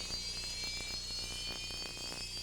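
A Sukhoi Su-27 fighter jet at an airshow gives off a faint, steady jet engine roar that stays constant throughout with no talk.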